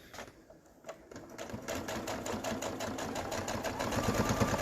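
A sewing machine stitches a quarter-inch seam around strip-quilt pieces, its motor starting after a short pause and building into a fast, even chatter of needle strokes that grows slightly louder toward the end.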